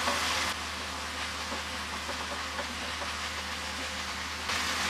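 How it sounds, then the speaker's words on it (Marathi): Cluster bean (gavar) and potato stir-fry tossed in a pan after the lid comes off, giving a soft, continuous sizzle with light stirring noises and a hum underneath, louder at the start and end. "आता भाजी परतून घेऊया."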